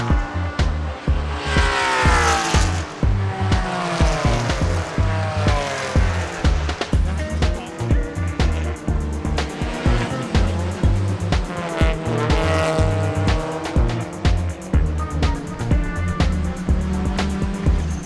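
Race cars at Mid-Ohio, including the Multimatic Mustang, roar through the corners with loud, rising and falling engine notes, quick gear changes and some tire squeal, heard up close and continuously.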